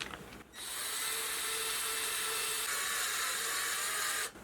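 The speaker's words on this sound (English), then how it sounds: "And then drill." A drill bores steadily through a shaft clamped in a 3D-printed drill guide for an RC car differential, a loud constant high whine that runs for about four seconds after a brief start and stops abruptly.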